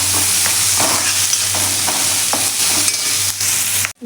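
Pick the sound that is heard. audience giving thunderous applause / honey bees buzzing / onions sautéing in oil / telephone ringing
onions sautéing in oil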